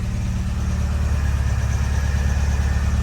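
A restored 1967 Volvo Amazon wagon idles just after a cold start, a steady, close, loud low-pitched engine rumble with an even pulsing throb and no voices.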